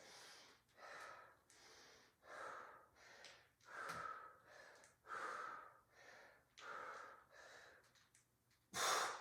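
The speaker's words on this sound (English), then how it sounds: "Now make sure you're breathing here." Heavy, rhythmic breathing from someone working through a TRX suspension strap pull combo, about a dozen loud, close inhales and exhales in steady succession with no talking, ending in a sharper burst.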